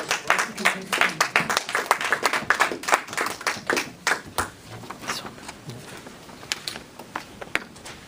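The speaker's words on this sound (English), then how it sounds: "Please give them a round of applause for the" At a humorous speech contest, an audience claps for the contestants, a moderate round of scattered hand claps that slowly thins out toward the end.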